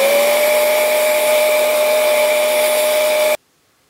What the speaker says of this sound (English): Use your Genesis heat gun on low heat.